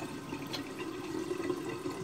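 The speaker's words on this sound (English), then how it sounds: "Rinse the face off with a little warm water." Warm water splashes and runs in a bathroom sink as a face is rinsed after shaving. The wash is continuous and close, with light splashes and no speech.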